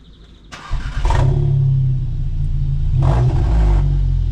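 An Audi S3 8V with a 76mm half-line exhaust and single valve cranks and fires up, settling into a deep, loud, close idle rumble with a brief blip partway through.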